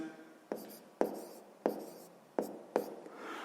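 Pen or chalk strokes write a math solution on a board: five sharp taps and scratches at irregular intervals, each fading quickly, close and fairly quiet.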